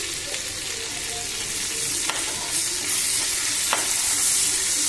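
Cumin, asafoetida, curry leaves and coriander crackle in hot tempering oil for kodo millet pongal, a loud continuous sizzle with a few sharp pops, close up and with no talking.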